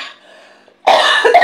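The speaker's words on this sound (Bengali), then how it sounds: "কাশি হচ্ছে।" A single sharp cough from a person bursts out after a faint, quiet lead-in, close and loud.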